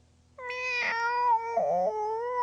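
A cat's meows in a rising and falling wail, two drawn-out cries close by, with a steady low hum under them. No talking.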